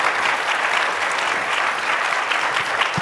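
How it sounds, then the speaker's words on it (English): Sustained, dense applause from an audience at a cancer control program anniversary celebration, greeting a panel of national partners; steady clapping fills the whole stretch without pause. "please give a round of applause for our National Partners panel"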